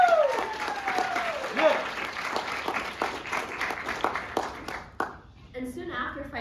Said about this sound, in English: Now's the time to clap for that